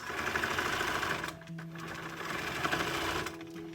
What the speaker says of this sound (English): I'm just going to do a little reverse sew again